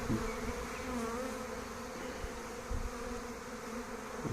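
A freshly issued swarm of honeybees buzzes at an apiary in Santeny, a dense, continuous close-up hum of many wings that stays steady throughout with no talking.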